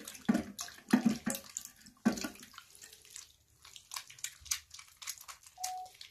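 Water is poured over a hand while showering: irregular splashes and trickling gushes, loud in short bursts at first, then quieter patters and drips, with no talk.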